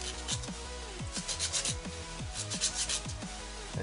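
A handmade gauge plug being sanded by hand with 120 grit sandpaper, a steady close rubbing scratch with short repeated strokes and no talking.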